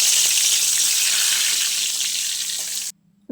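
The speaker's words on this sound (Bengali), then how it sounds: "বেগুন ভাজি রান্নার যে শব্দ সেটা একটু আমি আপনাদের শুনিয়ে দিলাম" Eggplant slices dropped into hot oil for begun bhaji, a loud, steady hiss of sizzling that runs close and unbroken for nearly three seconds before cutting off abruptly.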